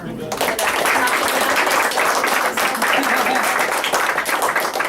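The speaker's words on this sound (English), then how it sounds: "I think that deserves a huge, huge round of applause" Audience applause at a school board meeting, loud sustained clapping from the crowd carrying through the whole stretch, with some voices mixed in.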